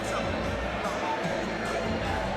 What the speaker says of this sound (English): You can hear the crowd shouting Egan